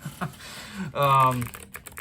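Typing on a mechanical keyboard with Cerakeys ceramic keycaps and box white switches gives a short burst of quick, close, fairly crisp key clacks.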